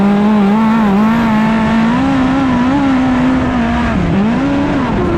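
A race car corners hard on a track, its engine note rising and dipping in a loud, close, continuous wail as the driven wheels spin on corner entry, with no voices over it.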